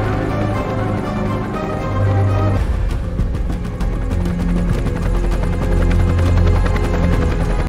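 A helicopter flies through a film scene, its rotor throbbing steadily under a layered orchestral score, the engine drone holding loud and continuous throughout.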